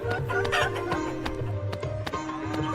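Chickens cluck loudly and steadily in the video game Meena Game 2, with rapid repeated clucks over a busy, bright game soundscape.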